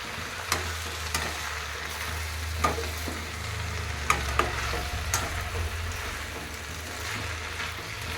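Fenugreek leaves and mixed vegetables fry in a pan with a steady, close sizzle, broken by occasional scraping clicks of a spatula stirring the pan.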